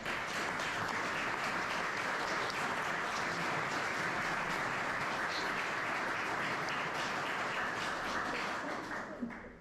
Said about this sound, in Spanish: Le pediría un aplauso al público por ello.